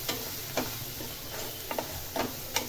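Spices being stirred into vegetables in a pan for a peas and cauliflower dry curry, with soft intermittent scraping strokes over a steady low sizzle.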